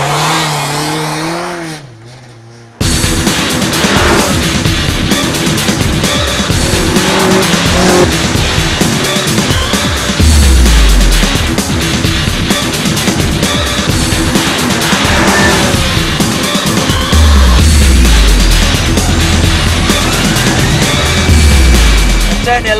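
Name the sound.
race car sliding with tire squeal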